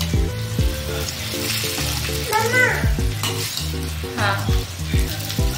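Veg hakka noodles stir-frying in a hot pan: a steady loud sizzle with rhythmic scraping and tossing strokes of a spatula against the pan, nearly alone with only a brief word spoken.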